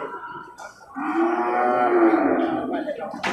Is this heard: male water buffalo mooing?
yes